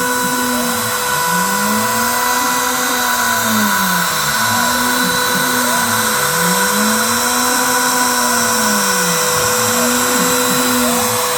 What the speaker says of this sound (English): I don't think the Makita router is really that loud. I thought it was going to be a lot louder.